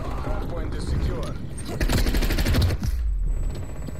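Rapid automatic gunfire and bursts of shots ring out continuously in a Call of Duty: Cold War multiplayer match, loud and dense, with a player talking over the battle.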